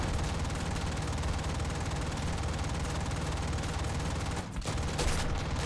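Rapid machine-gun fire in War Thunder's Great War event, a dense continuous rattle of shots amid steady engine drone, briefly dipping near the end before resuming.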